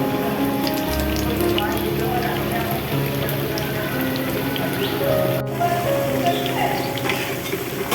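Carrot and potato kebabs fry in a pan with a dense, steady crackle and sizzle throughout, close and continuous, with a brief soft clink partway.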